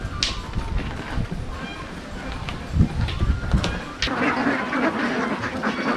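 Ducks quack while being fed amid a busy outdoor clatter at Nelliyampathi, Palakkad, with people talking nearby throughout.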